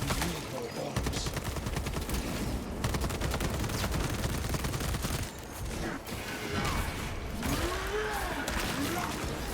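Rapid bursts from a one-handed bull carbine in Space Marine 2, with sustained automatic fire over loud combat clatter and mechanical noise, close and continuous, with someone talking over it.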